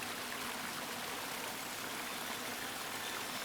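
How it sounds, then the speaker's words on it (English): A steady, full rush of falling water from a waterfall in the video game The Longing, constant and close with no pauses or voices over it. "The majestic waterfall."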